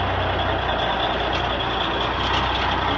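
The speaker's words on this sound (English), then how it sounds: "The truck is out of here." A heavy truck pulls away from a bridge beam unloading site with a loud, steady diesel engine rumble and reversing-style beeping, close by and continuous.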